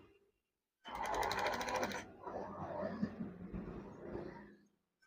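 A sewing machine stitches a wave-style curtain, with a fast, loud mechanical whir at first and then a steadier, softer running hum for a few seconds before it stops.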